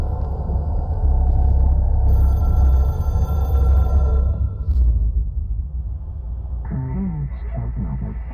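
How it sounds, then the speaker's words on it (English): A telephone rings in the video game Control, a sustained tonal ring lasting a few seconds over a heavy low rumble and ambient hum, then fading as other game sounds take over. "It is a phone."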